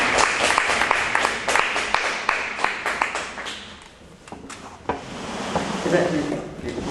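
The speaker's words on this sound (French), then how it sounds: "Merci, nous applaudissons." Seminar audience applauding: a dense burst of hand claps that thins out after a few seconds, followed by room noise and a few scattered louder knocks.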